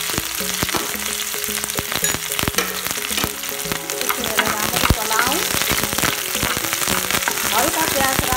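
Onions frying in hot oil with fenugreek seeds, cumin and chilli, a loud, dense crackling sizzle with popping and occasional stirring knocks from start to finish.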